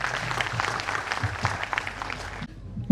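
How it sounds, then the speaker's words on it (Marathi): Applause for a music group at an award ceremony, a steady patter of many hands clapping in a hall, moderately loud, that cuts off abruptly near the end. "या संगीत समूहासाठी जोरदार टाळ्या झाल्या पाहिजे परत एकदा."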